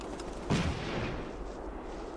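A rifle grenade fires in the Combat Mission: Rome to Victory war game, a single muffled boom over a continuous low rumble of distant battle.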